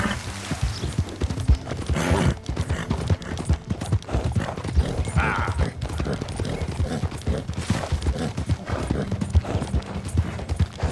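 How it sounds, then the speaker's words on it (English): Rapid, rhythmic hoofbeats of a galloping horse in the video game Red Dead Redemption 2 pound steadily throughout, with faint scattered noises in the background. "I feel like my horse riding has been improving a little bit."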